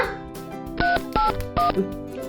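A telephone number is being dialed, giving three short, clear keypad beeps spaced evenly over a low background hum.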